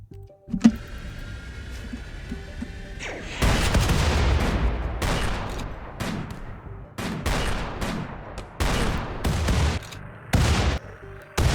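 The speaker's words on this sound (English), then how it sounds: "they had the thing where they explode when they die. And so causing chain reactions" Game enemies blow up in a chain reaction, a string of loud, sharp blasts and crackling bursts following one another irregularly after a quieter, humming opening.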